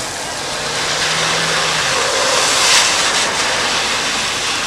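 On a film set, a rain tower showers artificial rain, giving a loud, steady hiss and rush that continues unbroken throughout, with a low mechanical hum underneath.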